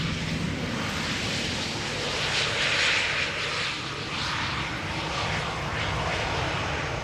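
Tarom Boeing 737-700 arriving at Amsterdam Schiphol from Bucharest: a steady broadband jet roar, moderately distant, swelling slightly near the middle and holding even throughout, with no voices.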